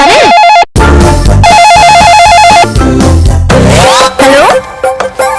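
A landline telephone rings indoors with an electronic, warbling tone that repeats in bursts, mixed with busy background music and sound effects.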